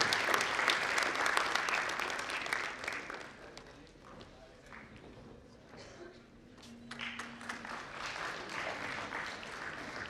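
Audience at an international sports and exercise medicine conference clapping for the organizing chairperson coming on stage; steady applause that fades midway, then picks up again with some background voices.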